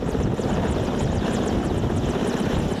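Ka-226 and Mi-14 helicopters roar through an evacuation drill for the wounded. The close rotor and engine noise is loud, continuous and dense, with no voices.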